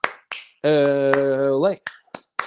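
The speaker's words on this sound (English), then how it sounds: "8 clap time, baby." A solo UCLA Bruins fan claps out the eight-clap cheer, a string of sharp, close claps interrupted by a long sung chant.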